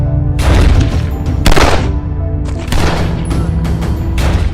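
Gunfire from a film shootout: bursts of loud shots and booming blasts in quick clusters, separated by short gaps, with no talking.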